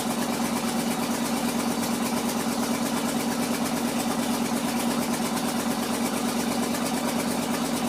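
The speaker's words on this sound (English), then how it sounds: "Gotta leave it idled up like this for a little bit until it gets warm enough it'll want to idle on its own." A Ford F-600 truck engine idles steadily just after an exhaust pipe weld repair, a loud, even, continuous rumble with a constant throb that holds unchanged throughout, close by and with no voices.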